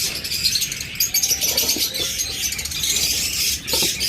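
Pair of pet lovebirds in a shop cage, chirping and chattering close by with small rustles and flutters, a busy bird-filled room behind them, no voices.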